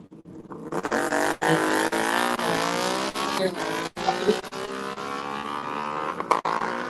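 Two drag racing motorcycles scream past together, their high engine notes rising and shifting in a loud, sustained whine under an announcer talking over a PA.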